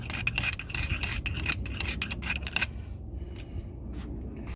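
Buildup is scrubbed off a 2004 Acura TL rear brake piston, a close, fast raspy rubbing that churns steadily for a couple of seconds, then breaks into a few scattered softer strokes.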